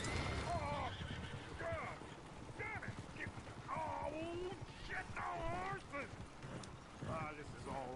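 Horses whinnying in Red Dead Redemption 2 as they run off: several rising and falling neighs overlap with clopping hooves, moderately close, while voices talk over them.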